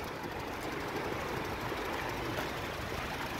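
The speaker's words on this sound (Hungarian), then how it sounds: "a motorja is a helyén van, és nagyon csendesen is jár" A Honda Jazz 1.4 engine runs quietly, a continuous, even hum without pauses or voices, close by under the open hood.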